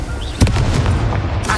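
Confringo blasting curse in a Harry Potter video game: a sharp explosive burst followed by a short rumbling crackle and trailing debris, loud and close, with no speech.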